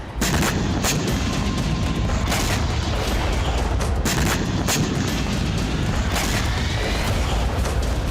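Heavy booming blasts and rumbling from rocket attacks in Russia's Belgorod region, a continuous loud roar broken by several sharper impacts, with no voices.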